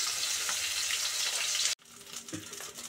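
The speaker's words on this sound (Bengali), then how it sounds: "লাল লাল করে একটু ভেজে নিতে হয় কই মাছ" Koi fish frying in hot oil in a pan, a dense steady sizzle close up that suddenly drops away, followed by quieter crackling and a few light clatters.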